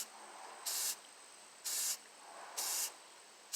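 Three short, loud bursts of hissing from a spray can applying clear coat to a Dollar Tree plastic skull, each lasting about a quarter second with brief quiet gaps between.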